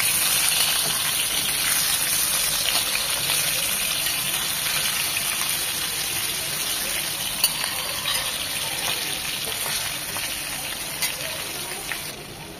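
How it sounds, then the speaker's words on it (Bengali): Fish sizzling in soybean oil in a pan, a steady broadband hiss of frying that holds throughout at moderate loudness, fading slightly toward the end. "মাছগুলো ভাজার জন্য প্যানে দিয়ে দিলাম সয়াবিন তেল।"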